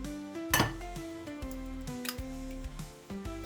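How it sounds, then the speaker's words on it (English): An egg is cracked for the glaze on Dutch gevulde speculaas: one sharp, brief crack close by, heard over steady background music. "Crack one more egg."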